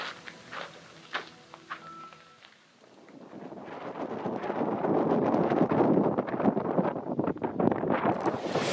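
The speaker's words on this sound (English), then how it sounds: "the wind cranked up to, I don't know, a speed where we thought the tent was gonna blow over" Strong mountain wind roars against a tent on a trail between Idyllwild and Mt. San Jacinto, starting with soft rustling and light knocks, dipping briefly, then building into a loud, sustained gusting rush that fills the rest of the clip.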